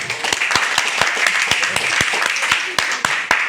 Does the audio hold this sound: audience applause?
yes